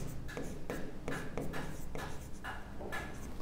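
Writing on a board during a maths lesson: a close, rhythmic series of short strokes about every half second, against a faint steady background hum, with no speech.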